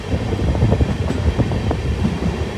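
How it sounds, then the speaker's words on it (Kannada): A Mysuru–Talguppa passenger train picks up speed with a loud, steady rumble and rapid rattling clatter of the coaches, heard from inside the car without talk. "ಇಲ್ಲಿಂದ ನಮ್ಮ ಟ್ರೈನ್ ಸ್ವಲ್ಪ ಸ್ಪೀಡಪ್ ಆಯಿತು."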